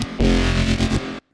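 A loud, distorted bass house synth note sustains for about a second, thick and washed with reverb, then cuts off into a faint tail.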